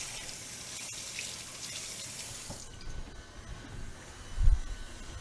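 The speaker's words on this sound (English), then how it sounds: "doing a quick rinse because I will need my stuff in a little bit of time." Running kitchen sink tap rinsing items, a steady close splashing stream of water that cuts off partway through, followed by a few faint knocks and a dull thump.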